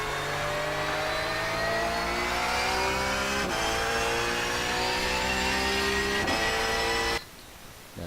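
Race car engine in iRacing at Watkins Glen, loud and continuous as the throttle is fed in to full, pitch climbing steadily through gear changes with brief dips, then the drone drops away sharply near the end.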